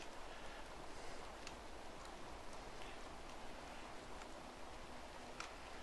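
Steady rain falling in the video game RimWorld, a soft even hiss with faint scattered drip ticks, quiet and continuous with no talking.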